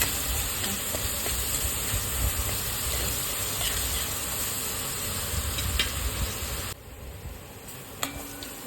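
Garlic and green chilli paste fries in a hot pan for a fenugreek vegetable dish, giving a steady close sizzle and hiss with faint stirring. The sizzle drops in level near the end, and a short clink follows.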